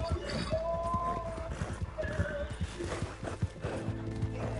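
A horse in the video game Red Dead Redemption gallops with rapid rhythmic hoofbeats and lets out short neighs, set within busy in-game ambience.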